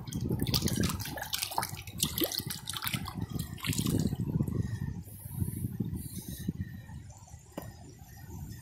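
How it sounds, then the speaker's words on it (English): Creek water splashing and trickling as a rock is rinsed off by hand along an eastern Oklahoma creek, a close, steady wet sloshing that eases toward the end. "Let me rinse that off."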